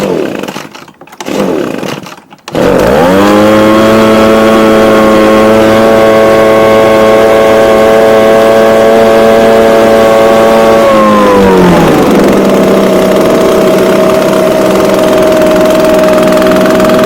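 Echo EB250 leaf blower engine, loud and close, starting up and revving steadily high, then dropping back to a lower idle after a brief silence at the start.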